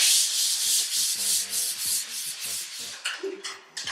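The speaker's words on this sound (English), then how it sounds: "whenever you're using a fresh bit of sandpaper like this is 180 grit" Sandpaper of 180 grit rubbed back and forth over a surface during spray-painting prep, a steady broadband scratchy hiss in rhythmic strokes, close and fairly loud, with no voices.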